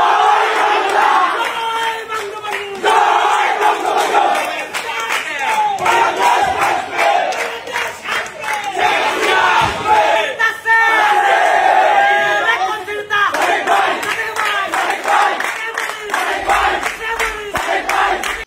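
A crowd of Awami League activists and Chhatra League supporters chants slogans in loud, rhythmic call-and-response bursts, voices massed and close, with a leader's shouted lines driving the chant.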